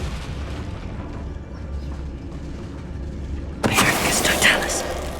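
A Confringo blasting spell explosion in the video game Hogwarts Legacy, a single sudden loud burst near the end that breaks a quiet low ambient rumble, followed by a crackling, roaring tail.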